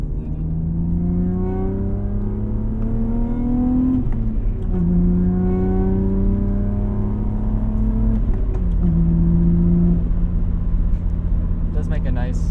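BMW E36 328i engine revving on a track, three rising pulls with stepped pitch climbing and dropping at each shift, loud and close, with a voice talking over parts of it.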